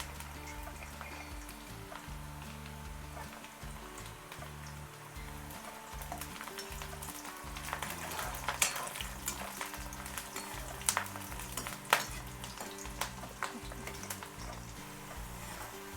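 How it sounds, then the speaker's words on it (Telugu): Onions fry in hot oil with curry leaves for a chicken curry, a soft, steady crackle with faint stirring clicks under quiet background music. "ఆనియన్స్ ఫ్రై అవుతున్నప్పుడే నేను కొంచెం కరివేపాకు వేసేస్తున్నాను"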